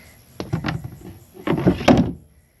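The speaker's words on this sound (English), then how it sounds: "Other side's the same way. A little removable door." A small removable door on a 2020 Twin Vee 260SE boat being handled, with a few close wooden knocks and thunks, then a rattling slide and clatter as it is fitted back in place, no talk.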